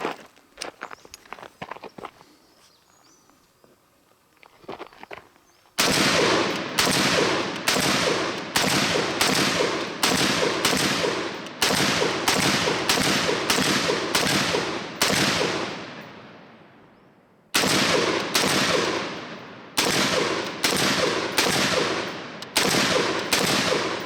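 A Para Marauder AR pistol with a 40-round Magpul PMag fires loud, close shots in steady strings and quick pairs, with a pause between strings and one ringing echo. Faint handling noises come before the first shot.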